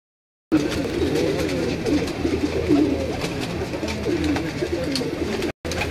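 Breeder pigeons coo on a Lahore rooftop, several birds giving repeated soft throaty coos over a low rooftop background, close and steady, no talking.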